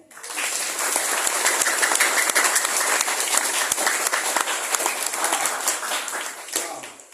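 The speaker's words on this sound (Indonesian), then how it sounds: "Coba adik tepuk tangan yang kencang" Loud, dense clapping from a seated audience at a talk on Dharma Tula, Ahimsa and Pecaruan, a steady sustained wash of hands lasting several seconds before tapering off, with no one speaking.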